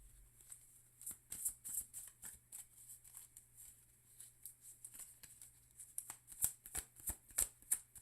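Tarot cards being shuffled by hand, a soft run of quick riffling flutters and light taps, close and quiet, with no talking.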